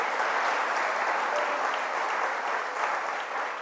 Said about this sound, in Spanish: Denle un aplauso a esta palabra que tiene poder.